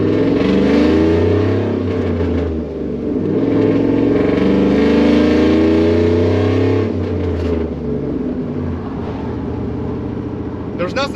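Chevrolet Silverado 4.8 V8 with a five-speed manual, engine revving and pulling through gears with a deep rising and falling drone, loud and close, with someone speaking over it.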